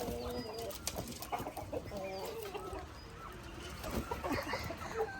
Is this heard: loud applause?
no